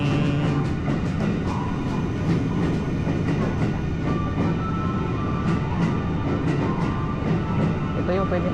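Hello Kitty themed train in Japan rumbling steadily with a continuous rolling drone and faint clickety-clack, heard close and loud from a station or platform, with people talking over it throughout.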